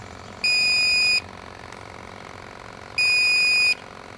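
A gas detector sounds its low-oxygen alarm while mapping gas leaks around trees: two loud, steady electronic beep bursts, each under a second long, separated by a pause of about two seconds, over a quiet outdoor background.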